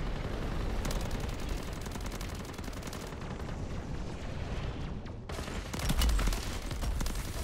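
Gunfire from MW3 Zombies during a solo boss fight against the Red Worm: dense, sustained automatic shooting with bursts and explosive booms, loud and continuous through the clip.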